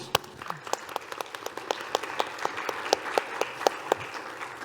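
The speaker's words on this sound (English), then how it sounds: "A big applause." Audience applause at a climate policy conference, fairly quiet and somewhat distant, with a smattering of distinct individual claps standing out over a soft, continuous patter of hands.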